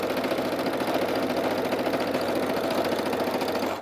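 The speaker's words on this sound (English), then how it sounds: "I always feel like the Brother sewing machine's a little bit louder, so my apologies." A Brother sewing machine runs steadily at speed, giving a close, loud, rapid mechanical chatter and hum that continues without a break, with no one speaking.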